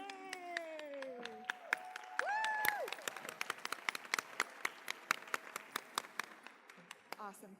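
An audience at an elementary school Battle of the Books event claps for a school team: a scattering of sharp individual claps that quickly thins out, with a few cheering voices near the start.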